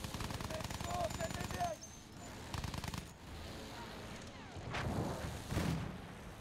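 BAR rifle fire in Battlefield 1, steady loud rapid shooting that breaks off, then sporadic shots and a heavier distant burst and boom, with a voice talking over parts of it.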